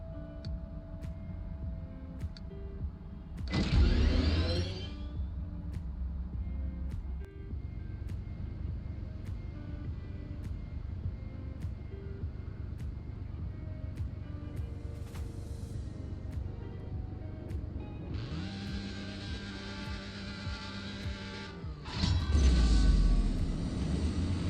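Engine audio from a car's test run in the CSR Racing 2 drag racing game: revving bursts and shift sounds with a steady engine drone between them, closing on a louder roaring burst, with no talking.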